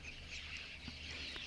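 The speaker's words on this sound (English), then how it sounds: "grey lory, which is also called the go-away bird." A grey lory, the go-away bird, calls at a waterhole with harsh, nasal, repeated cries over a steady outdoor ambience, moderately distant, with no talking.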